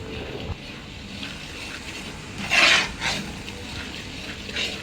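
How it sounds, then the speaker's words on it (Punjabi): Gram flour (besan) roasts in a pan while being stirred, giving a soft continuous sizzle with scraping strokes and one louder scrape near the middle. No one speaks. "ਅੱਧਾ ਘੰਟਾ ਹੋ ਗਿਆ ਆਪਾਂ ਨੂੰ ਵੇਸਣ ਭੁੰਦਿਆਂ ਨੂੰ"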